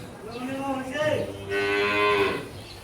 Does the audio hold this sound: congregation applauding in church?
no